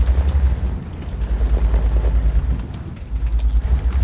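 Artillery shells exploding in a tank combat game, a steady sequence of loud low booms and rumbling impacts with a pulsing, thudding rhythm throughout, no voices.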